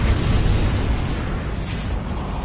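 A deep, rumbling supernova explosion sound effect fills the whole stretch, broad and sustained with a heavy low-end boom and no voices.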